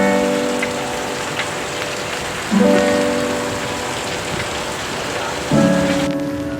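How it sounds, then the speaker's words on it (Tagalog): Heavy rain pours down steadily in a dense, constant wash of drumming on surfaces, with a couple of brief tonal sounds rising over it in the background. "biglang bumuhos na naman ang malakas na ulan"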